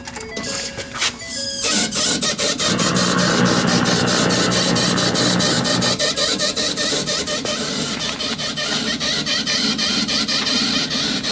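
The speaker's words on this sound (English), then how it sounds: "Listen to this fuel pump." Fuel pump on a 2011 Ford F350 with a 6.7 Powerstroke, running loud and close with a harsh rapid mechanical clatter and whine, continuous for about ten seconds with no talking.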